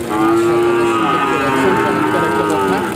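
A cow moos loudly in one long, drawn-out low call lasting several seconds.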